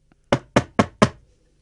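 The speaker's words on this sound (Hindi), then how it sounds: "उसने झोंपड़ी का दरवाजा खटखटाया" Four quick, evenly spaced knocks on a hut door, close and crisp, with silence before and after.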